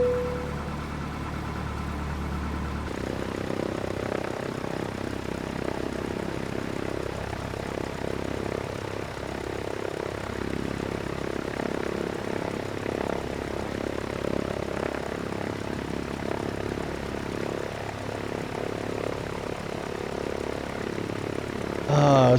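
Propeller aircraft engine in Flight Simulator X during pushback and a long taxi, a continuous droning hum that steps up in pitch and loudness after a few seconds and then holds steady without speech.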